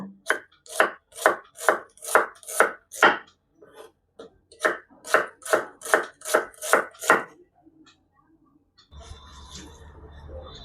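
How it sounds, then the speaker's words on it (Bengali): A knife slices onions on a board in two quick runs of sharp, evenly spaced chops, about eight strokes each, then falls quiet before a brief clatter of something set down. "এরপর আমরা পেঁয়াজগুলো এইভাবে স্লাইস কেটে নেব"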